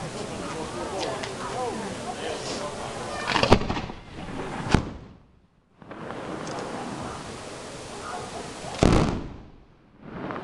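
Sharp firework bangs burst out in a noisy crowd scene at the San Liberato festival, a loud crack near the middle and another toward the end, with chatter and commotion around them.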